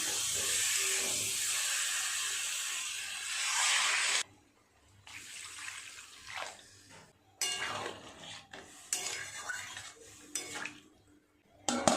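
Elephant foot yam and potatoes cooking in water in a pan throw off loud, harsh bursts of steam hiss, cut by sudden near-silent gaps, with light pot clatter between.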